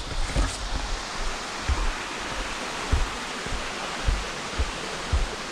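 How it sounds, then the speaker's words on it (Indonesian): The Luthu waterfall in Aceh Besar roars with a steady, broad rush of falling water, with occasional low thumps beneath the constant wash. "penampakan air terjun Lutunya"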